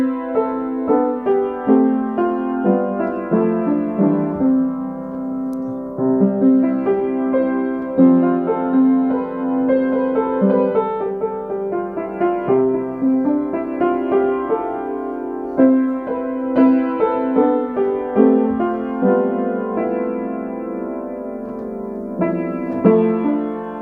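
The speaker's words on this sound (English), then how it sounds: "a descending 7/6 sequence, which sounds kind of like this." Solo piano plays a descending 7/6 sequence in historic improvisation style, a continuous flowing passage of overlapping notes stepping downward over about twenty seconds, close and clear with no voices.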